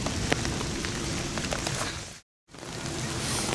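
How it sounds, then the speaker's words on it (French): Steady rain falls outdoors at a fishing spot, a dense, even hiss with scattered drops, briefly cut to silence midway before resuming. "sous la pluie."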